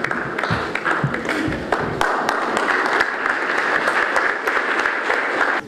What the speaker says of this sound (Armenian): բոլորը ծափահարեք